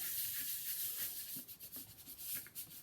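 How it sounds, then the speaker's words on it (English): A cut paper piece being rubbed down by hand onto a 12x12 scrapbook album page: a soft, quiet, continuous dry rubbing with slight fluctuations, close by, with no talking. "now I'm going to just rub it down"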